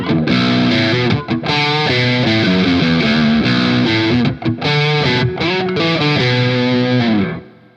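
Heavily distorted low-tuned baritone electric guitar through a Laney Ironheart Loud Pedal plays chugging chords and riffs with short pauses, thick and saturated, ringing out at the end.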